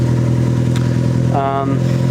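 Honda Fit exhaust rumbles with a deep, steady engine drone close by, with a brief rising rev partway through.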